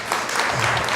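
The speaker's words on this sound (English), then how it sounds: "If you want a nicer Fablo, clap your hands" An audience at a graduation party at the Cooinda Centre claps steadily for about a second between songs at a live singing performance, a dense, even patter of many hands.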